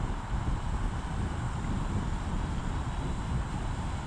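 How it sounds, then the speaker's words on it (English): Strong wind buffets a small Eachine E50 selfie drone's microphone outdoors, a steady broadband roar with low rumbling gusts filling the whole stretch and no clear voice over it. "Whoa, it's very windy."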